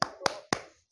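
Three sharp, evenly spaced hand claps of a tepuk semangat rhythmic clapping routine, crisp and close, played out alone over under a second.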